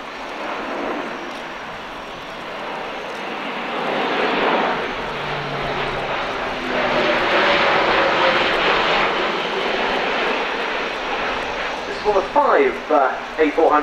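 An Airbus Military A400M transport aircraft flies at the RIAT airshow in 2013, its turboprop engine roar building and staying loud overhead, followed by a few short bursts near the end.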